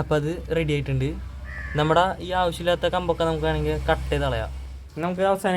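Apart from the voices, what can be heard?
No distinct noise like a dog, phone or traffic.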